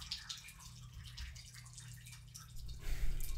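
Excess water from a freshly watered hanging plant drips into a pot set underneath, a faint, soft patter of drops at low level with no talking.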